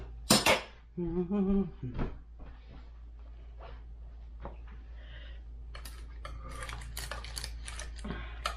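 A sharp knife cutting cheese and ham garlic bread inside a metal pan, with scraping and clinking of metal against the pan in irregular bursts, close, preceded by a louder clatter at the start.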